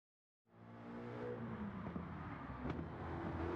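Alpine VGT race car in Gran Turismo 7, running on racing soft tyres around the Nürburgring: after a brief silence the engine fades in and holds a steady, revving drone, rising slightly in pitch.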